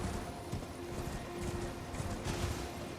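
Horse hooves galloping in the video game Elden Ring, a steady rapid clip-clop beat carried along under a continuous wash of game ambience and music, with no voices.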